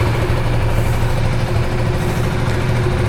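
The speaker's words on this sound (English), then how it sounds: "let's just hear the exhaust note" A 2025 KTM 390 Adventure X motorcycle idles with its exhaust note steady and close, a continuous low thrumming drone with no throttle changes.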